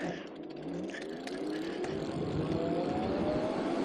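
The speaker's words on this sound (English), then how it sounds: "We're in mode 5, full throttle with our new tune." A Lyric Graffiti X e-bike in mode 5 with a new tune accelerates at full throttle, giving a steady motor whine that rises gradually in pitch against continuous wind and road noise, close and sustained throughout.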